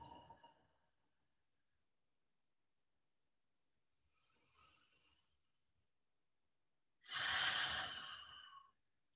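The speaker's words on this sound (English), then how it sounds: "I would just like to take 3 centering breaths" Deep centering breaths, a soft exhale, then a quieter breath, then a long strong inhale-exhale close to the microphone, in an otherwise silent room.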